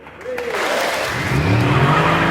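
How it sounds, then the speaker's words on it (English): A Mercedes-Benz E63 AMG V8 races off the start alongside a Chevrolet Camaro SS, a loud, rising engine roar with tyre squeal building over two seconds. "what a racket from the E63, drowning out the Chevy"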